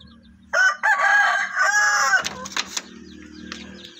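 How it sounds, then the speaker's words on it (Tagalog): A young rooster (stag) in a backyard crows loudly and close by with one long, strained call, then gives a few short clucks. "So ito guys yung ating stag."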